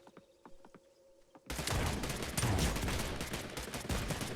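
Loud, dense gunfire from the video game Realm Royale bursts in after a quiet opening with faint clicks, sustaining a rapid fusillade of shots that stays close and heavy to the end.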